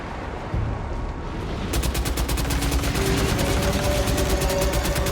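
Rapid automatic gunfire in a video game, a fast steady stream of loud shots kicking in after a brief lull and running continuously to the end over a dense game backdrop.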